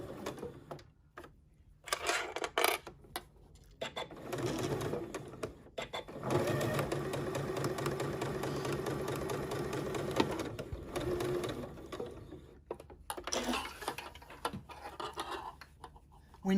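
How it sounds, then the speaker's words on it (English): A sewing machine with a quarter-inch foot backstitches the lining of a fabric book pen pouch, running in short bursts and then in one longer steady run, close and fairly quiet. "I'm going to do a little back stitch here"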